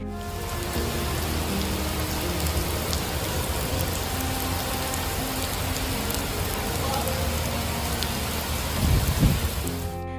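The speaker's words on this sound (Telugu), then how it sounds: "ఒక్కసారిగా భారీ వర్షం విరుచుకుపడినట్టుగా తెలుస్తోంది." Heavy rain pours steadily in Mecca, a dense, constant hiss of drops close by, with a brief low thump near the end.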